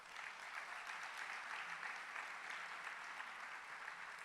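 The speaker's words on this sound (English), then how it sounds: "let's give them another round of applause" Audience applause at an arts sector summit: steady clapping from a seated crowd, even and sustained, heard faint and distant throughout.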